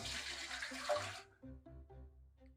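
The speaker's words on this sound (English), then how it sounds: "in this big pot, we're going to put 4 cups of vinegar" Vinegar poured into a big pot while making a brine for canning beets, a loud splashing rush of liquid for about a second, then it cuts off and a few soft drips and clinks follow.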